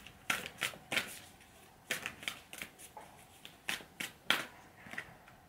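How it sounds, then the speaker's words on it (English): A deck of oracle cards being shuffled nearby, with a series of crisp riffling bursts and card slaps spaced irregularly through a quiet room, no talking. "Let's pull one final card for her from this deck."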